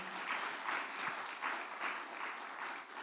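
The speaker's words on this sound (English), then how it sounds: "Please, let's give them again a big, loud applause." A conference audience applauds steadily for about three seconds, a dense wash of clapping from many hands that swells slightly and holds without a break.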